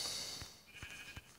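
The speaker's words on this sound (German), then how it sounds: "Da guckt mich das Schaf an." A sheep bleating in Minecraft Pocket Edition: a few short, faint bleats repeat at a steady pace against a hissy game background, with no speech.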